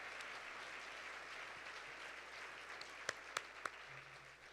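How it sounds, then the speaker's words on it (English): Audience applause at a leadership luncheon, a steady wash of clapping filling the room at moderate level for several seconds, with a few sharper claps standing out near the end. "Give them another round of applause."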